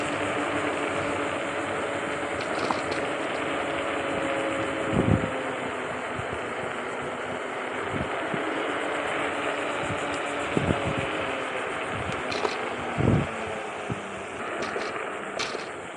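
LEOOUT SX10 electric scooter climbing an off-road hill over gravel and pine, a steady close motor whir with wind and occasional bumps and knocks from the rough ground.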